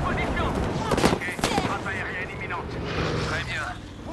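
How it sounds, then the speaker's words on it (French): Artillery fire in Battlefield V, with heavy booming impacts near the middle of the clip and rolling rumble and crackle around them. The blasts play against continuous battle noise. "Artillerie demandée"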